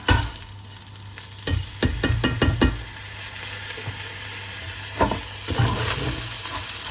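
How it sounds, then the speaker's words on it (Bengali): Ginger garlic paste, cinnamon, cardamom and bay leaf fry over low heat, a steady close sizzle broken by a quick run of sharp stirring knocks and scrapes early on, then a few more later, with no talking. "এর ভিতরে এখন আমি একটু আদা রসুন পেস্ট, দারচিনি, এলাচ, তেজপাতা দিয়ে ভাজতে থাকবো আস্তে জাল দিয়ে"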